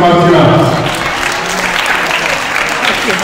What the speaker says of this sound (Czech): Velký potlesk pro Martina.